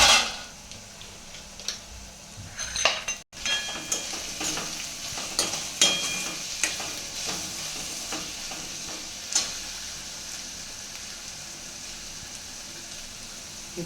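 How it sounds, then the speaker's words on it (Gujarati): Sliced dried onions sauté in a pan for a village-style vegetable curry, giving a steady close sizzle with scattered stirring scrapes and small pops throughout. "હવે આપણે ડુંગળી પણ નાખી દીધી છે અંદર. સળવા દઈશું થોડી વાર."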